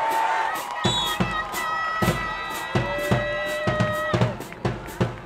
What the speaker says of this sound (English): Y'all give Cordova a big round of applause